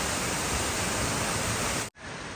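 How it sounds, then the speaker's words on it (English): A waterfall at Watkins Glen State Park pours with a loud, steady broadband rush of falling water, continuous and close, cutting out abruptly near the end before resuming more faintly. "Another spectacular waterfall."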